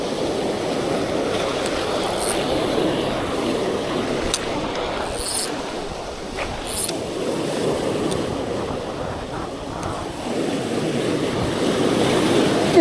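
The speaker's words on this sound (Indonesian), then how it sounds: "Anginnya kenceng banget." Strong wind buffets the microphone while big waves surge and crash on a beach where someone is casting a fishing line. The roar is steady and loud throughout, with occasional gusts.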